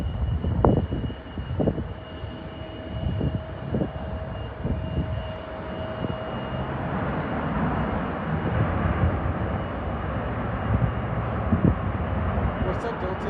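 Airliner descending toward a runway at San Francisco airport, a steady broad engine roar swelling gradually from a distance, with people chatting and a few clicks and thumps nearby.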